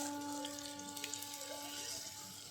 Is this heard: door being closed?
no